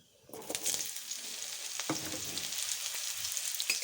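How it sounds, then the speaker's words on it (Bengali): Pieces of green mango are stirred into black seeds already frying in a pan, a bright continuous sizzle with occasional clicks of the spoon as they are moved about. "আমটা দিয়ে একটু নেড়ে নিলাম।"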